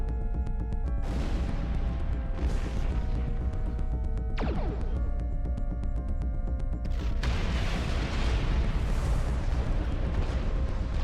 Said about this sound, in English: Oh, I guess they really will take 2 torpedoes.